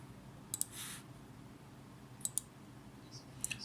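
Mouse clicks on a computer, three faint pairs of quick sharp clicks spaced apart over a quiet background.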